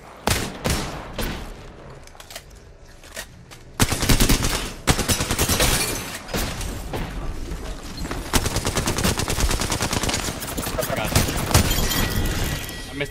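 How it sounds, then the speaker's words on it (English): Rapid Alternator gunfire in Apex Legends, bursts of fast sharp shots building into sustained loud firing, with game effects and a voice talking over it. "Missed every shot with the alternator"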